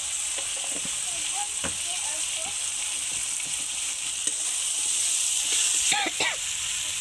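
A masala of onion paste, green chilli, turmeric and cumin powder fries in a pan for a tilapia curry, giving a loud, steady sizzle broken by stirring scrapes.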